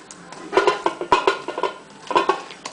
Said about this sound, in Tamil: போட்டு இதை கலந்துட்டு நல்லா மிக்ஸ் பண்ணு